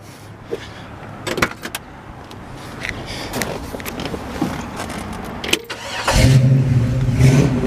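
After some background clatter and shuffling, a restored 1966 Chevrolet Chevelle SS396 convertible's engine cranks and catches, then settles into a steady, low rumbling idle up close.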